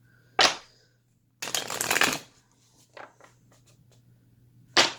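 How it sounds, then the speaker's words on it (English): Deck of tarot reading cards being shuffled: a quick riffle, a longer riffle and bridge, a few soft taps, then another riffle, close and crisp in a quiet room. "I did shuffle the deck. The intent of energy in there, but I'm gonna shuffle again."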